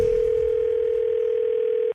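A telephone dial tone plays on a recorded call, one steady, unbroken pitched hum for about two seconds that cuts off abruptly.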